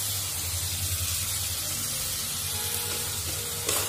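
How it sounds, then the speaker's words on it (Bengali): Ginger garlic paste sizzles steadily in a hot pan of fried onions, a dense continuous frying hiss with a brief clatter near the end and no voices. "এখন আদা রসুনের পেস্ট দিয়ে দিচ্ছি,"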